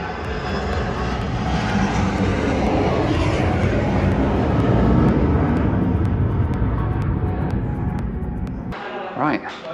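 A Boeing 737-200 Combi jet arriving at a remote northern airport, its engine roar loud, broad and steady throughout, cutting off abruptly near the end.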